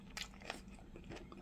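Crunchy leftover thin-sliced pork belly is chewed up close, a few quiet crisp bites and crunches in an irregular rhythm with no talking.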